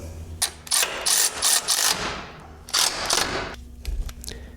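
Ratcheting wrench torquing M12 bolts with a 19mm socket on a Jeep JK Rubicon tow loop and bumper, a close series of loud clicking ratchet bursts in uneven runs with short pauses, no talking.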